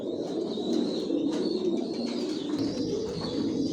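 Racer pigeons coo softly and repeatedly in a loft, several birds overlapping in low, rolling calls, with faint chirps above them and no talking.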